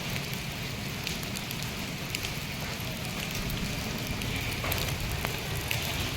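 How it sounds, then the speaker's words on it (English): Hail falling during a hailstorm, a dense steady patter and crackle of many stones striking surfaces, continuous and fairly loud throughout, with scattered sharper impacts and no voices. "this is the hailstorm coming up."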